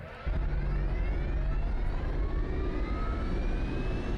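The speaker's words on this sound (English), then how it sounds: "We'll go ahead and get the jet going." Jet engine spooling up in the DCS World flight simulator, a steady loud broadband roar with rising whine tones building continuously from a quarter second in.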